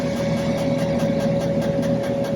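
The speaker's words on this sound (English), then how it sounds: "We can play with the RPM to see how the injectors are performing at different RPMs inside of your engine." Fuel injectors on a cleaning and flow-test rig simulating 600 RPM, giving a steady mechanical hum with a sustained tone and a rapid, regular ticking pulse running evenly throughout, close and fairly loud with no talking.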